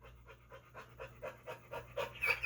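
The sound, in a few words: dog panting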